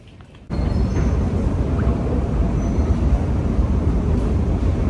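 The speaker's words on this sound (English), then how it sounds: "Maybe I'll show you some of the subway trains." A subway train in Sydney rumbles in a steady, loud, continuous roar that starts abruptly and stays constant throughout, with no talking.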